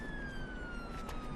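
An ambulance siren wails steadily, a single sustained tone with a slow, gradual pitch fall, heard faintly and at a distance over low background rumble.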